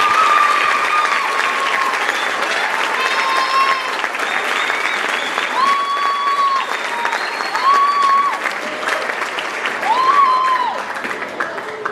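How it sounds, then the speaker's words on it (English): Sustained applause from a middle school concert audience fills the hall, steady and dense throughout with no pauses, while a few faint tonal sounds drift over the clapping. "So if we get an extra round of applause for them"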